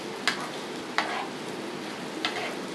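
Pieces for a papaya and paneer recipe frying in a pan: an even, continuous sizzle up close with a few sharp spatter pops scattered through it, no one speaking.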